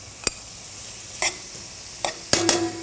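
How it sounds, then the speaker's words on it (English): Shrimp and par-cooked arborio rice being sautéed together in a pan, with a few separate scraping stir strokes and brief sizzling bursts over a quiet steady background hiss. "We're gonna saute everything together now."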